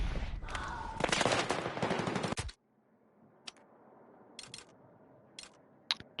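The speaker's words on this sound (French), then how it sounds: "Du coup, c'est un fusil d'assaut." Assault rifle fire in a video game rattles out as a dense, loud burst for a couple of seconds, then stops, leaving quiet background with a few sharp isolated clicks and shots.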